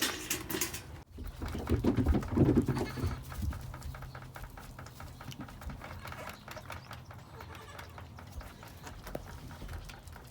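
A goat bleats a few times, moderately near, among farmyard shuffling and scattered knocks, with no talking.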